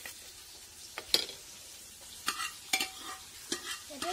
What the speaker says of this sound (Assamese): চামুচ আহিব দিয়া এইখিনি ধুনীয়াকৈ চেনিখিনি ভালকৈ হেৰি লগাব